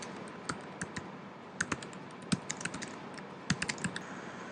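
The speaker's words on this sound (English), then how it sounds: "Every time I start typing, it's going to pause" Quiet, close clicking of fingers typing on a computer keyboard, irregular keystrokes landing in short clusters over a faint room hum.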